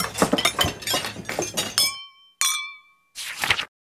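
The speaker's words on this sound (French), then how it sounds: "La vaisselle fait cling, clang, clong." Dishes clink and clatter in a dense cluster of sharp glassy and ceramic hits, then two more separate ringing clinks with short resonant tails, close and fairly loud.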